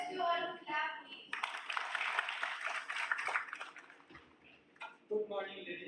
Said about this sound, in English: I request you all to clap,